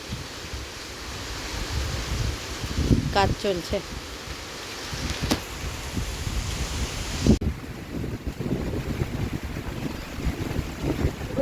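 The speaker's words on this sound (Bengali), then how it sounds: "যেমন বৃষ্টি হচ্ছে তেমন হাওয়া দিচ্ছে" Steady wind gusts rush and buffet the microphone on an open rooftop during rain, with rain-like hiss underneath and a few brief spoken words.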